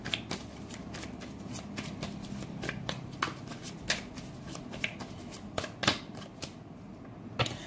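Tarot cards being shuffled by hand, a steady run of quick crisp riffling flicks and taps, close and fairly soft, with no talking.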